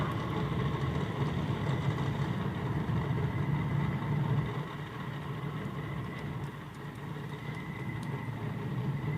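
A stick-shift Chevrolet Camaro with a swapped Ford Barra engine runs steadily at a street car event, a continuous close engine drone that eases slightly in level about halfway through, with no talk.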